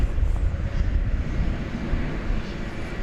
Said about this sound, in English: That's an Airbus A300 Flight 761 going to Ontario, California